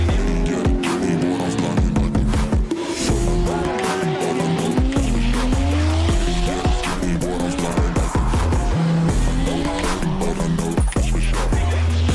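Drift cars in a video game, from the 2022 Drift Masters Virtual Championship, with engines revving and sweeping through gears while tires squeal in long continuous skids, loud and close throughout with no voices.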